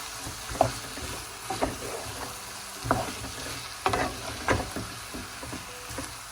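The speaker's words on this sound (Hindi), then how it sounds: "अब इसमें आलू शामिल कर देंगे और इसको अच्छी तरह मिक्स कर लेंगे।" Boiled potatoes stirred into a frying eggplant curry in a pan, with a steady sizzle under a run of spoon scrapes and clacks spaced about a second apart, close and moderately loud, no talking.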